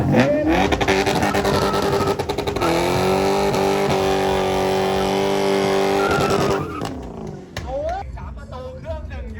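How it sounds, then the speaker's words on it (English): A Honda EG Civic fitted with a Lexus V8 roars and revs hard with screeching tires for several seconds at a Bangkok car show, then drops off as excited voices shout nearby. "So this EG Civic has a Lexus V8 in it."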